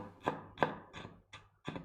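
Five sharp, close knife chops on a cutting board, spaced unevenly with brief silences between, as something is diced into tiny pieces for a Filipino chicken adobo marinade.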